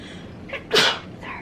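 A single loud, sharp sneeze bursts out close by at a casual Fourth of July cookout meal, preceded by a brief faint intake and followed by a short quieter trailing sound.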